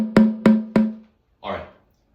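Three evenly spaced strikes on a snare drum with the snares turned off, each a hollow, tonal ring with a sustained low pitch, followed by a brief softer scrape or voice-like sound.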